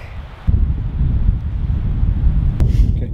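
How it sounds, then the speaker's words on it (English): Strong wind roars and buffets the microphone in a steady, heavy rumble in the Bears Paw Mountains, with a brief sharp knock near the end. "Because it's like super windy"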